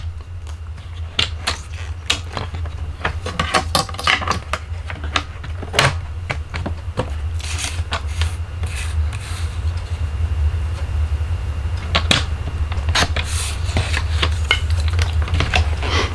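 Black cardstock being cut with a paper cutter or scissors, giving a run of short crisp snips and clicks at close range, repeated unevenly over a steady low background hum.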